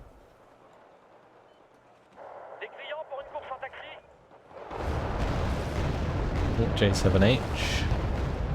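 Bombing explosions in the Wargame: Red Dragon Second Korean War campaign, heavy rumbling booms that build into a loud, sustained roar after a quieter stretch, with a voice talking over them.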